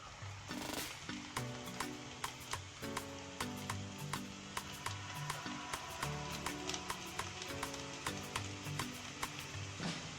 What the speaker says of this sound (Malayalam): അപ്പോൾ നമുക്കിതിങ്ങനെ വറക്കുന്നേ നോക്കാം.